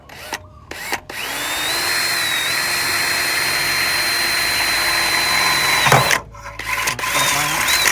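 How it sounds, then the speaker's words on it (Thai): A power drill bores a hole through a car part during a car air-conditioning repair. After a couple of brief starts, the drill runs in a loud, close, steady whine for about five seconds, then cuts off, followed by a few short bursts. "มาร์กรู ไว้ก็เจาะ"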